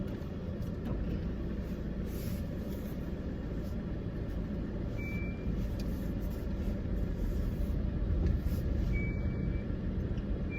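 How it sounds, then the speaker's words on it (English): A truck passes on a road beside the rain-soaked street, a heavy low rumble that builds and swells near the end over constant traffic noise, with a couple of faint high beeps in between. "Don't hit me, truck."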